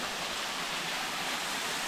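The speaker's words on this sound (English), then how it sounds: "Here's that next cascade." A jungle waterfall cascade on the Vaihi circuit in Tahiti, a steady close rushing roar of falling water with no other sounds.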